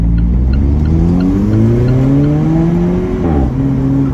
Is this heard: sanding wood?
no